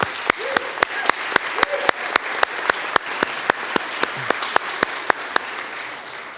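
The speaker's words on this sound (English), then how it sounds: "we'd like to give you a round of applause." A crowd applauds steadily throughout at a university nursing convocation, with sharp, regular claps standing out close by over the dense wash of clapping.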